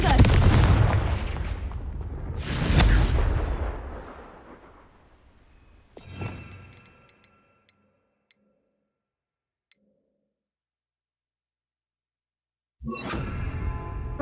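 The Confringo blasting spell in the video game Hogwarts Legacy makes loud booming blasts with rumbling tails, followed by quiet faint ticks and then another heavy burst.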